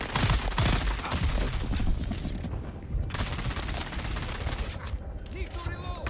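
Gunfire in the video game Dune Awakening comes as dense rapid bursts of automatic shots, loud and close, then easing into scattered fire and game effects.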